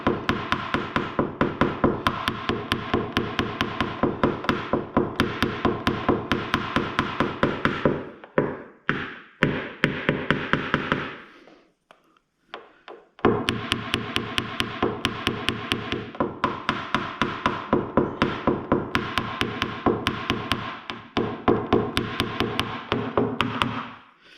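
A tool taps out a dent in a Pontiac Solstice body panel during paintless dent repair: rapid, regular, close metallic taps that run continuously, stop briefly around the middle, then resume at the same quick rhythm.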